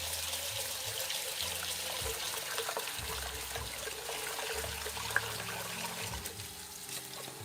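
Wild rice being rinsed under water: a steady, continuous rush of running, splashing water close by, with no talking.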